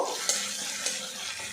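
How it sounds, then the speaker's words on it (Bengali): Ginger-garlic paste and onion fry in a pan, giving a steady close sizzle while a utensil stirs, with two sharper scraping knocks against the pan and no talking. "আদা রসুন পেস্ট আর পেঁয়াজ একসঙ্গে আবারও ভাজা ভাজা করে নেব"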